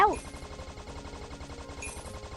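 Rapid, steady gunfire from a fish-hunting arcade game, Mermaid Hunter, rattling in a continuous burst with bright chimes and game effects layered over it.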